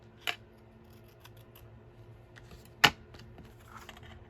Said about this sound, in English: Snip that off there.